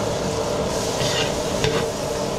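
Butter and cooking oil sizzling steadily in a pan, a close, continuous frying hiss with brief stirring scrapes, no talk.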